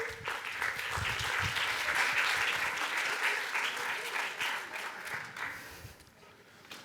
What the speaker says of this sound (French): Allez, rejoignez-moi, on va vous applaudir.